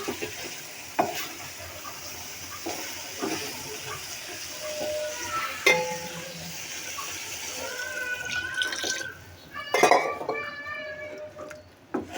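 Beef tongue cooking in a pan with water just added: clinks and scrapes of stirring against the pan over a low bubbling sizzle, with a few louder knocks and brief faint voices near the end.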